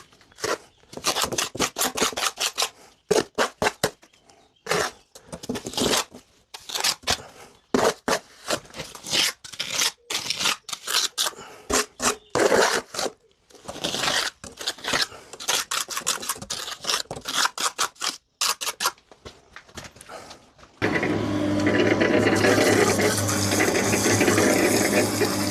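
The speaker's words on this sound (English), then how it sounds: "I'm just getting a little bit on the end of that trowel and working it into all the joints there" Trowel scraping and pressing lime mortar into the joints of a stone wall, repeated gritty strokes in bursts with short pauses, close and fairly loud, ending in a steady rough rasp.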